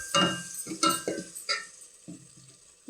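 Homemade ground chili powder being stirred into sambar in a pot gives a handful of soft, separate scraping and clinking strokes, close by and fairly quiet, with short pauses between them.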